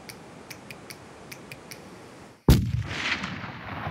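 A hunting rifle fires one sharp, loud shot that cuts through a quiet outdoor scene with faint steady ticking, then rings out in a long echoing tail across open hunting ground in Spain.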